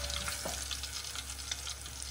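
Tempering (bagar) for a tomato sour curry sizzles in hot oil, a close, continuous frying hiss with light stirring. No one speaks.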